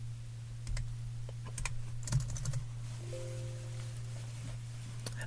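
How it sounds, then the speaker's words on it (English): Fingers tapping on a field laptop keyboard outdoors in a jungle setting, quiet irregular bursts of key clicks over a constant low hum, with a brief faint tone partway through. "I'm actually going to type up the answers here since I have my field laptop with me."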